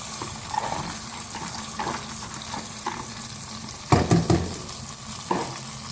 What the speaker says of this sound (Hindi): अब इसको भूनेंगे मसाले के साथ अच्छी तरह से, मीडियम फ्लेम पे।